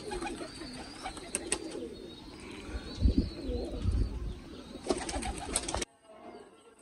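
Dub pigeons cooing in a breeder loft in Faisalabad, soft repeated coos with chirps and occasional wing rustle, close and moderately loud, fading out abruptly near the end.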